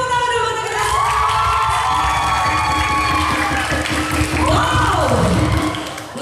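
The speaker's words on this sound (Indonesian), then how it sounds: "Tepuk tangan dulu untuk kita." A large audience cheers, whoops and claps loudly and continuously at a Batak Toba traditional arts performance evening, with shouting voices rising over the din and an emcee speaking faintly beneath the crowd.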